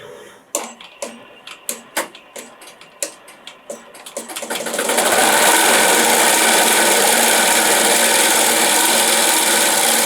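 An embroidery machine stitches a football pillow, first tapping out a series of sharp separate clicks, then settling into a loud, steady, fast mechanical whir that carries on to the end.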